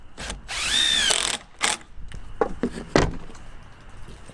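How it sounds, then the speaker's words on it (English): A power drill drives a screw into a wooden canning rack shelf, a rising whine of about half a second followed by clicks, knocks and brief bursts of handling close by. "Hold it down, and put your"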